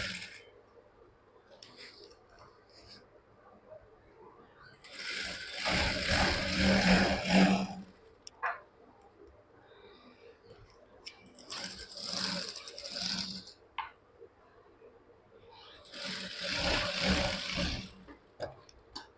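A sewing machine stitches a school uniform chudithar in bursts, with three loud runs of whirring, rattling stitching separated by quieter pauses, up close.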